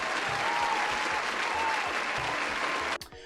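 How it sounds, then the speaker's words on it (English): A canned applause sound effect: a dense, steady wash of many hands clapping at full volume, which cuts off abruptly just before the end. "hold for applause"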